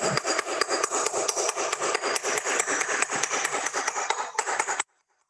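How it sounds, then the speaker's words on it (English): A hammer drives a chisel into flagstone rock in a rapid, steady run of sharp, ringing metal-on-stone taps, close and loud, stopping abruptly into silence at the end. "just because you're chiseling is a piece of rock and it's not soft"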